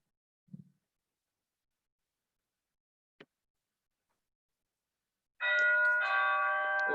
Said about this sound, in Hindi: ओहो, किसके महाराजा के घर में घंटी बज गई है।